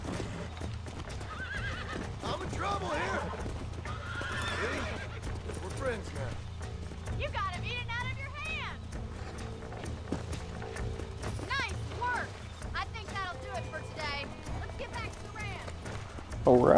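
Repeated horse whinnies and neighs over steady clip-clopping hooves in the Red Dead Redemption video game, with talking underneath and the neighs rising in clear bursts through the middle and later part.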